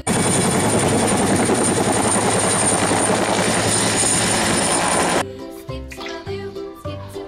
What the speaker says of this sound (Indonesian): Ini helikopter milik polisi.